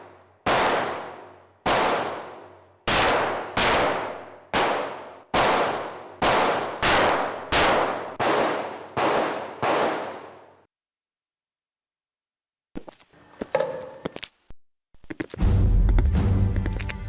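A rapid series of about ten sharp, loud gunshots with short echoing decays, followed by silence and then some faint clatter and rustling.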